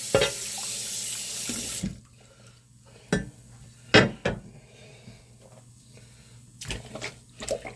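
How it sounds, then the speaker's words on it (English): Tap water runs loudly over a sharpening stone lapping plate for about two seconds, then stops, followed by scattered clanks and taps as the plate is handled. "let's go ahead and rinse this plate off and dry it"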